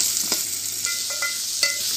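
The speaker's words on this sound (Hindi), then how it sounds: "अब हम प्याज को थोड़ा ट्रांसपेरेंट होने तक अच्छे से भून लेंगे, हल्का सा लाल हो जाए तब तक हम भूनेंगे।" Chopped onions and garlic fry in hot oil for a South Indian style drumstick leaves sabji, a bright continuous sizzle with soft scrapes of a spoon stirring, close and steady.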